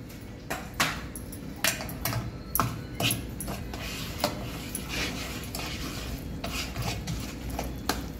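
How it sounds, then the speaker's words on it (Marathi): Semolina stirred into a thick jaggery mixture in a pot, producing repeated scraping strokes and spoon clinks against metal at an irregular rhythm, close and fairly loud. "आणि आता हा सगळा रवा त्याच्यामध्ये मिक्स करायचा।"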